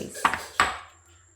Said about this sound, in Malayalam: വിസ്ക് വെച്ച് നന്നായിട്ട് മിക്സാക്കി കൊടുക്കുന്നുണ്ട്